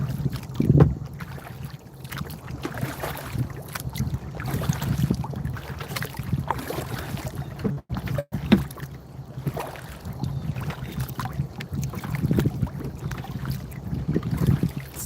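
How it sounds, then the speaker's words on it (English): Strong wind blows steadily, a broad rushing roar with low rumbling buffeting across the microphone that swells and dips in gusts throughout, with no talking. "The wind's really blowing now."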